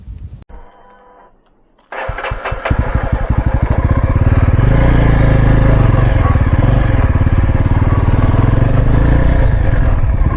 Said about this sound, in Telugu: అండ్ ఎగ్జాస్ట్ నోట్ అయితే నెక్స్ట్ లెవెల్